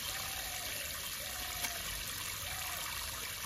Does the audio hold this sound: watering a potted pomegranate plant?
yes